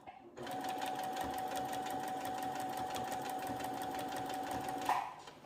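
A sewing machine runs a long, steady stitching burst to join the top and bottom of a dress. The needle chatters rapidly and evenly for about four and a half seconds, then stops with a soft clunk. No one speaks.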